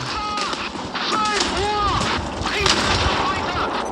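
Repeated booming cannon shots from a Sherman Jumbo tank in a video game, several heavy blasts in quick succession, loud and close, with a voice talking over them.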